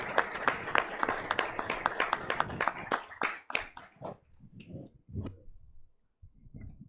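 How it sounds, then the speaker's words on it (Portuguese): Applause fills a city council chamber during an ordinary session, dense clapping that thins out midway into scattered claps and brief murmurs before fading. "uma salva de palmas a todos os servidores da Câmara que fizeram esse momento"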